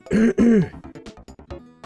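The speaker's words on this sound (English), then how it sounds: "I'm gonna mute myself that way I can clear my throat out." A person with heavy phlegm clears their throat twice in loud, harsh bursts up close, followed by a few short, softer throaty noises.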